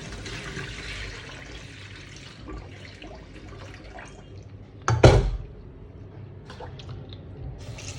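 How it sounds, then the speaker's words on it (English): Water drains and trickles as it is strained out of rinsed tapioca, a soft continuous wet flow with one louder squishy splash midway. "So I'm going to strain out the water."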